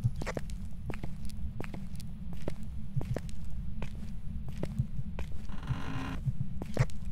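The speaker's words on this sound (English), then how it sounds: "I hear footsteps following me too." Ghost footsteps in the Phasmophobia video game sound as a steady run of soft, sharp taps over a constant low hum, with a brief rustling burst near the end.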